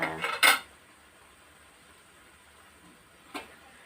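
A spoon clanks against a pan while stirring a gongura mixture, two quick metallic knocks at the start, then near silence before one more softer scrape.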